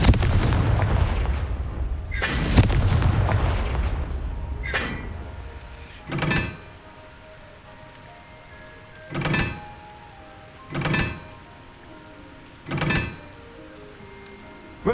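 Spell explosions in the video game Hogwarts Legacy: a heavy booming blast early on, then four evenly spaced deep thumping impacts in a quiet setting.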